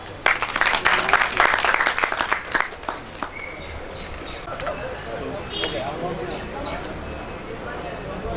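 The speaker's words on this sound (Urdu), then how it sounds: "محترمہ ڈاکٹر فہمیدہ حسین بڑی تالیاں دیں" Audience applause at an international Hindko language conference in Peshawar, a brisk burst of clapping for about three seconds that fades into quieter room noise and murmuring.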